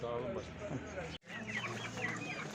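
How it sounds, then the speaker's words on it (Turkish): Village roosters and chickens at a poultry market, clucking and calling close by in short bursts, with people talking among them. "burada da pazarda iki tane de yan yana köy horozumuz var"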